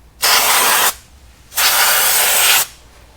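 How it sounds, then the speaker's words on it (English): Brake cleaner is sprayed onto the brake drum and shoes of a Toyota Yaris in two loud, close aerosol bursts, each about a second long, with a short quiet gap between them. "So the shoes, we're just going to do one last pass over with some brake cleaner."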